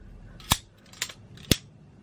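Three crisp snips of sharp sewing scissors, evenly spaced about half a second apart, close and sharp against a quiet background.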